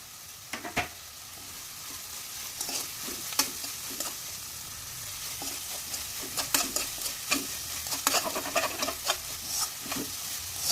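Chopped onions and green chilies frying in a pan on a low flame, a steady soft sizzle with scattered scraping stirs and clicks of a utensil against the pan, close and without any voices.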